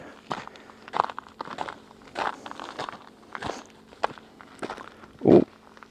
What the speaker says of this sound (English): Yeah, just crunchy ground.